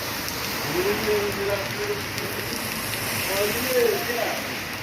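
Steady rain patters on a surface throughout, with faint chirping calls of two swallows rising above the wash of falling water.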